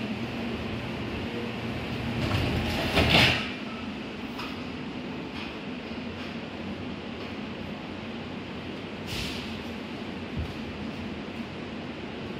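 A steady rumbling hum of a moving airport tram at Harry Reid International Airport, Las Vegas, fills the clip, with a brief rush and clatter early on, then an even ride noise.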